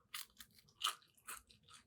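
Biting into a crunchy, golden, hot french fry gives a few sharp, close crunches in quick succession, loud and crisp against near silence.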